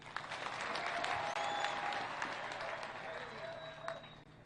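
A crowd at a public gathering in Meru applauds the President, sustained clapping that swells early and slowly fades, with a voice talking over it.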